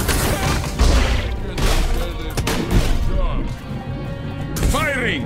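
Rapid alien gunfire bursts and impacts in the game Destroy All Humans! 2: Reprobed, dense and loud, layered with shouted character voices and game effects.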